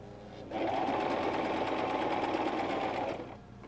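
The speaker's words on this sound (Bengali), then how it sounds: "ঠিক সেই সেলাইয়ের উপরে সেলাই দিব।" A sewing machine stitches over an existing seam on trousers, a loud close whirring run of rapid even needle strokes lasting about three seconds, with quiet before and after.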